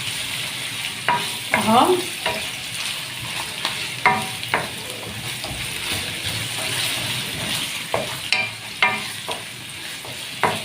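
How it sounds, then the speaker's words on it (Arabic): Chicken gizzards fry in a pan with steady sizzling, while a utensil stirs and scrapes in several short bursts; one brief spoken word cuts in partway. "معانا الجوانس بتاعتنا اهي غسلاها ومصفيها كويس اهي. هنزل بيها اهي"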